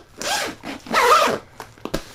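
A zipper on a rolltop camera backpack is drawn in a few short, close, scratchy pulls, with brief pauses and a quick final tug, and no talking.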